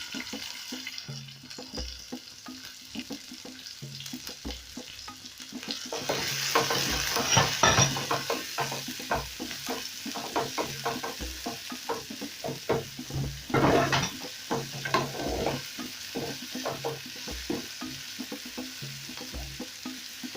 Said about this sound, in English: I'll wait for that to become hot,